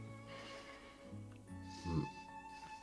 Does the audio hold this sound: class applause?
no